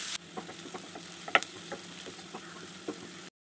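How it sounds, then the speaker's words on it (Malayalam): Curry leaves and chopped onion sauté in a pan for a Kerala yam roast, a quiet, soft sizzle with light, irregular stirring ticks that cuts off abruptly after about three seconds. "അതിനുശേഷം നമുക്ക് ചെറുതായി കട്ട് ചെയ്ത് വെച്ചിരിക്കുന്ന സവാള ചേർത്ത് കൊടുത്തുകൊണ്ട് നന്നായി വഴറ്റിയെടുക്കാം."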